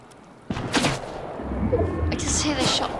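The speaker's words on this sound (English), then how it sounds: "I just hear the shot." A few sharp gunshots crack out in Fortnite's Tilted Towers, one sudden report followed by further bursts over a low rumble, with a voice talking at the same time.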